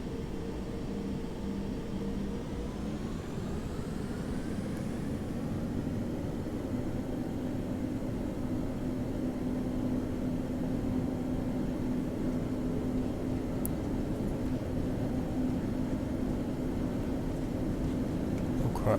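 Steady aircraft engine drone during a soft field takeoff in Flight Simulator X, a continuous loud hum and hiss that holds constant throughout with no talking.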